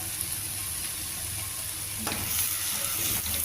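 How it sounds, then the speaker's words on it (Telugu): Bitter gourd fry being stirred in a pan: a continuous close sizzle with a few utensil scrapes and knocks against the pan, steady and fairly loud, no voices. "బాగా మిక్స్ చేసుకోవాలి"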